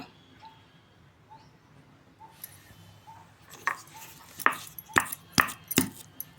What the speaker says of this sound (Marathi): हे झाले सारण हे आता खलब्यात घालून कुटून घेणे